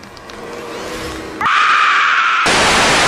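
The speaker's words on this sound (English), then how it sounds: "What are you screaming at?" A loud, harsh scream in a RWBY skeleton comedy skit, starting as a strained groan-like cry and then jumping into a sustained, piercing high yell that holds for nearly two seconds without words.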